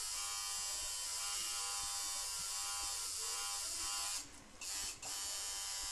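Steady high electric buzz of a tattoo machine running continuously during tattooing, close and loud, with a brief dip near the end.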